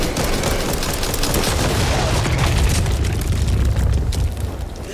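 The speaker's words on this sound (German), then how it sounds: "Seht ihr das? Blendgranate!" Flashbang grenade blast in Back 4 Blood, heard as a loud, dense rumbling roar with crackling bursts that fills the whole stretch and tails off slightly at the end.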